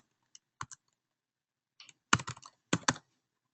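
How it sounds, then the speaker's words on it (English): A few keys are tapped on a computer keyboard to enter a password. The close, crisp clicks come in sparse bursts with short pauses between them. "And then I can type in my password."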